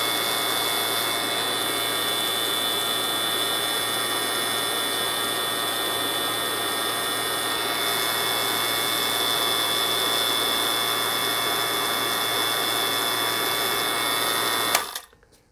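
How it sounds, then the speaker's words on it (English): A vacuum pump on a mini split unit's refrigerant line drones with a steady, loud, even hum that cuts off abruptly near the end. "So now I've turned the vacuum pump off"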